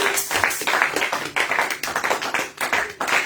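A church congregation claps in irregular bursts of applause, loud and close, with slight pauses between waves of clapping and no clear speech.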